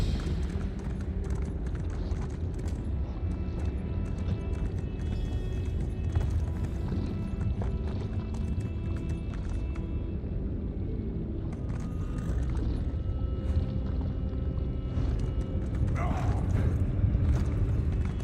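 Horse hooves clip-clop and gallop in Elder Scrolls game play: a steady rhythmic drumming that runs the whole way through, moderately loud, over low rumbling ambience with faint game effects.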